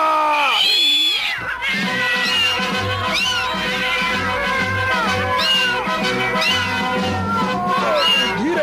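Cartoon cats meow repeatedly in a busy animated chase scene, their high wavering cries layered over lively music and shouting voices, loud and close throughout.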